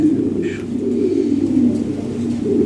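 Low, throaty pigeon cooing rolls on steadily up close, with a brief higher call cutting in near the start.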